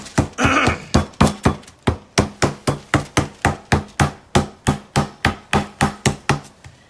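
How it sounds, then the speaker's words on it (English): Rapid, evenly spaced thuds pound close by, about three per second, each a sharp dull smack as meat is hammered flat, continuing steadily without speech. "so you kind of hammer this down, right?"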